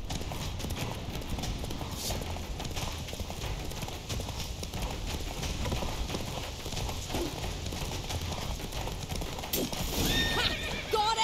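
Geralt's horse Roach gallops in The Witcher 3, a steady rapid clip-clop of hooves running on without pause under in-game ambience, with a horse's whinny and brief game sounds breaking in near the end.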